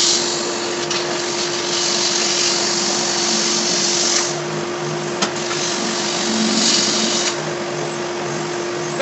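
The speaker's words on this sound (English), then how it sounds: "I'm going to do all that with a belt sander" A belt sander drones steadily across wooden loft ladder rails, its motor hum constant and fairly loud, with slight surges as the sander is pushed along the wood; no speech.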